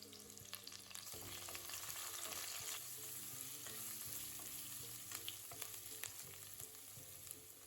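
Oil sizzles and crackles steadily as onions, cumin, fennel, curry leaves, garlic and green chilli fry in a pan, with occasional stirring scrapes and clinks over a constant hiss.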